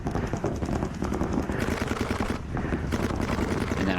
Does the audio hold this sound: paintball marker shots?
yes